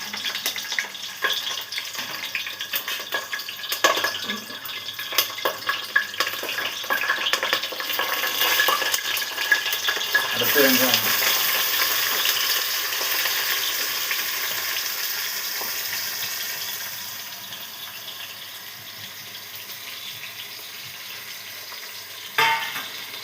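Green chilies, cinnamon, cloves and bay leaves frying in hot ghee in a pressure cooker for chicken biryani, a steady crackling sizzle running close and continuous, with a few stirring scrapes, easing slightly toward the end.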